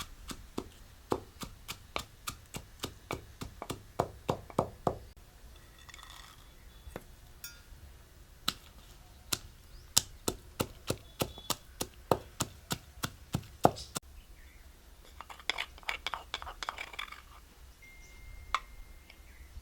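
Gathiya (fried gram-flour snack) and peanuts are pounded for gunda curry, making sharp, rhythmic thuds in quick bursts with short pauses, close and clear.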